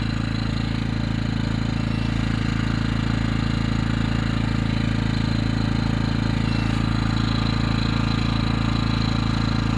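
A refurbished EcoFlow inverter generator engine running at a steady, even drone that stays loud and unbroken throughout, with no voices.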